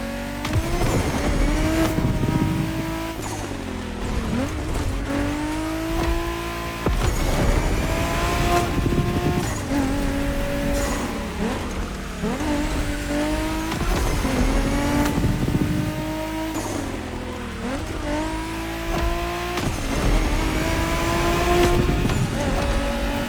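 Race car engines roar and rev continuously in The Crew Motorfest racing game, with tires squealing through turns; the loud sound rises and falls as gears shift, with no talking.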